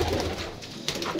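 Pigeons coo indoors in a room where sunlight enters only through a small window, their soft throaty calls close and repeated across a short stretch with no talking.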